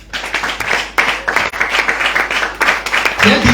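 A congregation at a religious service claps loudly and continuously for a few seconds, dense and unbroken applause filling the space.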